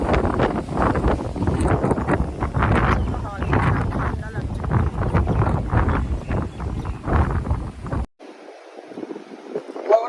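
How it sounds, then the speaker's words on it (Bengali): Strong wind buffets the microphone at a beach resort in Mandarmani, a loud continuous roar with gusts and rumble, while people talk over it; it drops away abruptly near the end. "বাবা কি হাওয়া দিচ্ছে!"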